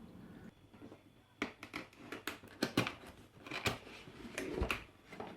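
Cardboard and plastic packaging of a CM Storm Quick Fire XTi mechanical keyboard with Cherry MX Brown switches being opened, quiet close crinkling, tearing and sharp scraping snaps coming in irregular bursts.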